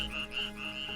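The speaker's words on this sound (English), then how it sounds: "At nights, we listen to the chorus of frogs and other animals around the pool." A chorus of frogs croaking around a pool at night, a dense continuous trilling drone close to the listener, with no speech.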